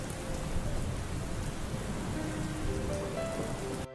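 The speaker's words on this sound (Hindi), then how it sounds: "इतनी तेज बारिश हो रही है" Heavy rain pours steadily in a Hindi fairytale scene, a dense continuous downpour with rumbling low end that cuts off abruptly just before the end.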